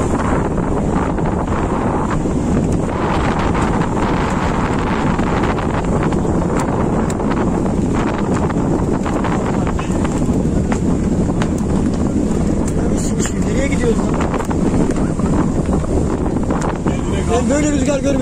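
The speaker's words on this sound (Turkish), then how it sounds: "Böyle rüzgar görmedim." Strong seaside wind buffets the microphone nonstop, a loud, dense roar and rumble that covers the whole stretch, with faint voices and other sounds half buried beneath it.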